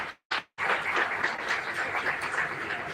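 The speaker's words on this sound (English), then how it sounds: "Great round of applause to Snehal, Sagar and team for technically supporting all of us." An audience at a live-streamed institutional event gives a round of applause for a technical support team, the clapping steady and moderately distant after a brief choppy start.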